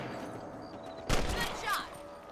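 A rifle fires at rabbits in the video game Red Dead Redemption, one sharp shot followed by a softer second report, over low background game ambience with voices nearby.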